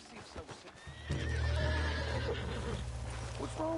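A horse whinnies loudly and at length, with hooves clopping around it and some voices in the background.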